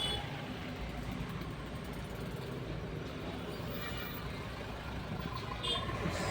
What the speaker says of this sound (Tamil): ஃபுல் டிராஃபிக்காக இருக்குது பாருங்கள்.